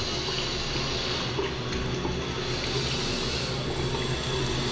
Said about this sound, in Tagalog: Ito may tubig na, mahina. Mahina yung tubig ah.